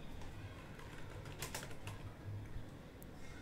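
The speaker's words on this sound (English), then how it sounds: "we have to go to search bar and simply type here user account control settings" Quiet typing on a computer keyboard comes through as a short run of soft clicks over steady background hiss.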